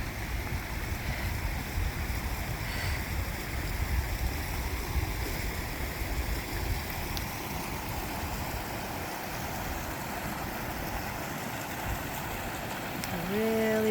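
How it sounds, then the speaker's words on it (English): A mountain creek along the Sierra High Route between Pine Creek and June Lake rushes steadily, a dense broadband wash of flowing water that holds constant throughout, close and continuous with no voices. "A really pretty creek."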